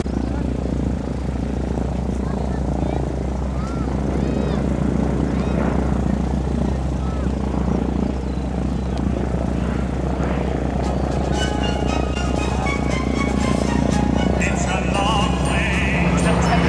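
A P-51 Mustang's propeller engine drones steadily at an air show in Switzerland, a continuous loud rumble throughout, while an announcer speaks in French over it.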